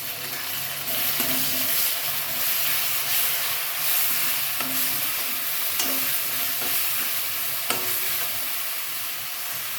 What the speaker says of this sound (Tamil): வெங்காயம், தக்காளி நல்லா வதங்கிட்டுருக்கு.